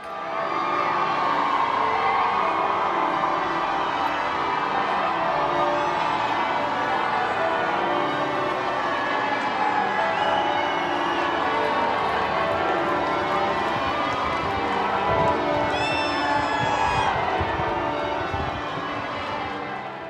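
A large crowd cheering at a royal wedding procession outside Westminster Abbey, a dense, continuous roar of cheers and shouts heard from amid the throng, loud and sustained throughout, with a few whistles rising near the end.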